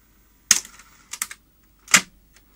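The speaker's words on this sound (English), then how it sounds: "It even sounds like the servos are working." Servo and tape mechanism of a Grundig VP100 video cassette recorder, heard as a few short clicking, whirring mechanical bursts close by, the last one the loudest.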